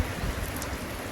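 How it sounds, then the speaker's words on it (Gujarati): Steady rain hisses evenly throughout, a dense wash of falling drops with no voices. "તો ગાઈ જો વરસાદ ચાલુ થઈ ગયો અત્યારે તો"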